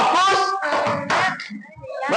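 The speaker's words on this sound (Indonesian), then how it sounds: "Tepuk fokus" Third-grade primary school children do a rhythmic clapping chant in class, with a quick run of sharp claps alternating with their chanting voices, close and loud.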